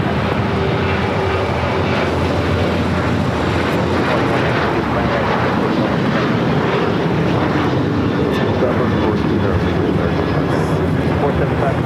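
A jet airliner roars steadily on takeoff from runway 25 Right at LAX, departing for Chicago O'Hare, loud and continuous broadband engine noise throughout with faint voices mixed in.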